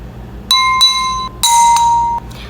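Drinking glass partly filled with water struck several times, each tap giving a clear bright ringing tone that sustains and decays, close and alone over a faint background hum.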